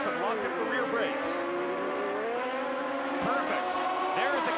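A Toyota Atlantic open-wheel race car at the 1993 Trois-Rivières street race brakes too deep and locks its rear wheels. The engine note wavers and drops, with brief squeals, under a commentator's voice.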